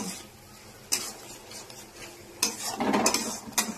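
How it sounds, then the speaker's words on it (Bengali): Fried prawns are stirred in spice paste in a pan, with a soft sizzle and intermittent scraping and clinking of a utensil against the pan. "চিংড়ি মাছটা যদিও ভাজা আছে, তাও একটু মশলার সাথে একটু কষিয়ে নেব।"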